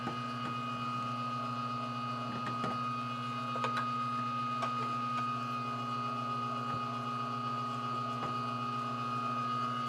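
Meat grinder running on a second grind while a stomper pushes meat down, a steady droning motor hum with a few faint clicks and ticks throughout.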